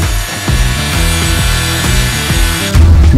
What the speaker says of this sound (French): les lingots sont acheminés sur la scie horizontale où nous couperons des tôles sur le sens de l'épaisseur